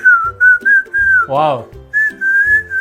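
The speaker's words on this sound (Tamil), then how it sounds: "மூக்குலயே விசில் அடிப்பேன்" A man whistles through his nose, producing a steady, sustained high tone in several phrases, interrupted midway by a short exclamation from another voice, clear and close.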